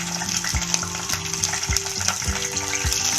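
Ginger and green chilies sizzle in a little oil and ghee for kodo millet pongal, a steady crackling fry under occasional spoon stirs and clinks against the pan.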